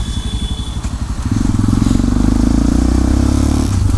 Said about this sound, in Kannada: ಏನು ಸಿಕ್ಕಾಪಟ್ಟೆ ಸೌಂಡು ಏನು ಮಾಡ್ತಾಯಿಲ್ಲ ಈ ಗಾಡಿ